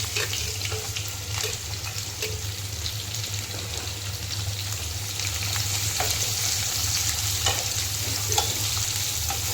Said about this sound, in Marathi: हा कांदा आपण टाकणार आहे उभा कापलेला आहे तर त्याला व्यवस्थित परतून घ्यायची